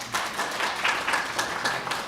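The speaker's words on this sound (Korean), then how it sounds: "박수 부탁드립니다." Audience applause at an academic conference on Korean classical literature, a brief steady patter of clapping at moderate volume.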